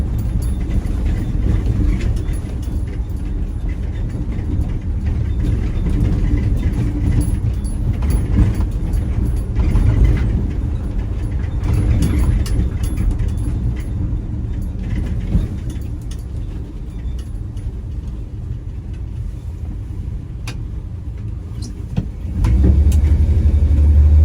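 Cab of a moving Dodge D150 pickup with a 225 Slant 6 engine, steady drone of engine and road noise with rattles and mechanical clicks, a louder low surge near the end, no talking.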